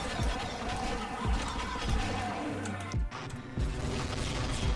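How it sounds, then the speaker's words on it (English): Gunfire and blasts from the Half-Life mod Poke646, a run of repeated booming impacts with sharp low thuds over a dense, noisy game background, fairly loud and steady for several seconds with a brief dip near the end. "Explosions."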